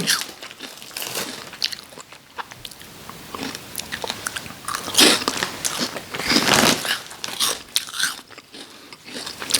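Close crunching and chewing of mini mala-flavoured rice crackers, repeated sharp brittle bites followed by steady chewing, with some faint packet crinkling and no talk.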